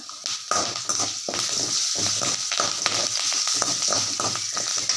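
Curry leaves hit hot oil and sizzle loudly and continuously, with dense crackling and spattering pops that stay close and steady throughout.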